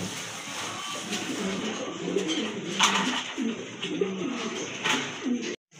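Several pigeons coo in a repeating, throaty rhythm close by, with faint rustling and a few soft chirps in the background.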